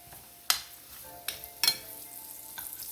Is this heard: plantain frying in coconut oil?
yes